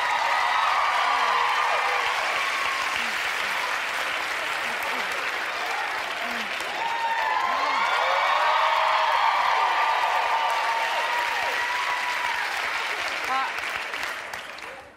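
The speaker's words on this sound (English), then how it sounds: "I'm glad that you stopped clapping" A television studio audience at a daytime talk show applauds loudly and continuously in a dense wash of clapping, swelling slightly midway before fading out at the end, while a voice speaks over it.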